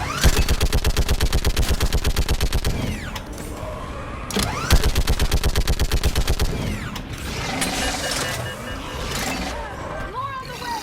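Rapid automatic gunfire from Mass Effect 3 during the battle on Thessia, loud and close, with two long bursts of evenly spaced shots separated by a brief pause. Shouted voices and chaotic combat noise follow the second burst.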